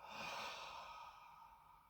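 A long, soft exhale during a chi gung breathing exercise, a steady breathy rush that starts strongest and slowly tapers off, close and alone with no talk.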